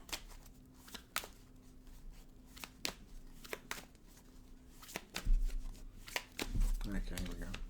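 A deck of cards is shuffled up close, with sharp riffling bursts and soft shuffling clicks, ending in louder handling rustle.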